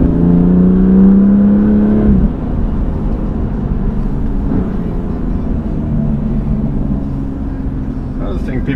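A BMW M2 Competition engine in Sport Plus mode with manual shifting, giving a loud, steady droning hum that drops off after about two seconds into a lower, continuous rumble.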